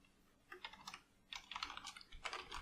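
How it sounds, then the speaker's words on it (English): Typing code on a computer keyboard: three close bursts of rapid key clicks separated by short pauses, with no talking. "So go ahead and type private"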